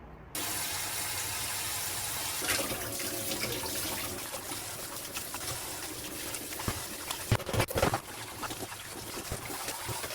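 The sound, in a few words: washing a stainless steel frying pan under running tap water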